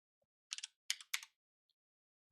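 Three short bursts of typing on a computer keyboard at a new workstation, quick clustered clicks close by in an otherwise quiet room.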